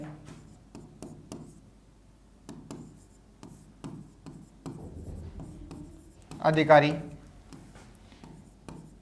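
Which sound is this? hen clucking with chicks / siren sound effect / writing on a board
writing on a board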